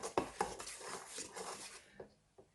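A spoon clinks and scrapes against a bowl while stirring chicken marinade with red food colouring, giving a few sharp taps and soft, quiet mixing sounds close by.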